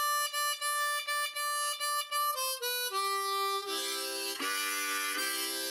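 Blues harmonica playing a run of quick, reedy, chopped notes that slide downward into longer bent tones, close and fairly loud with no talking.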